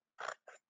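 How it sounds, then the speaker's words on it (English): Scissors cutting along a paper fold while making a zine, heard as two short close snips with silence between them. "And then you've got your scissors, and we're just going to cut on this fold"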